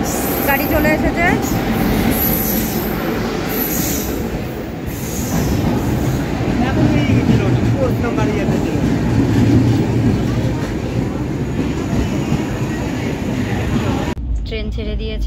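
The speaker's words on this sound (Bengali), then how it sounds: "ট্রেন ছেড়ে দিয়েছে।" A train pulls into a railway station platform and then departs, with continuous loud rumbling, wheel squeal and rail clatter. Indistinct voices are heard faintly beneath it throughout.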